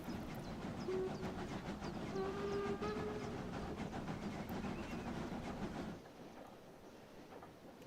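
An old EMU or DMU train pulls away from Retz in Lower Austria in Train Simulator Classic, with a moderate rolling rumble, a brief whistle-like tone and a steady clatter that drops off near the end.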